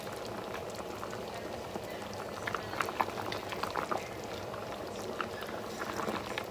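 Yams boil in a pot after forty minutes of cooking, a soft steady bubbling and gurgling with small scattered pops, fairly quiet and without speech.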